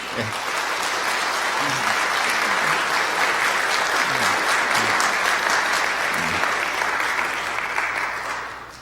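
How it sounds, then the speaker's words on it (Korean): Members of a Korean church congregation applaud during a Sunday worship service, a full, even roar of clapping lasting several seconds, with a few low voices murmuring underneath before it tapers off at the end. "이 시간 우리 박수 한번 보내드리겠습니다"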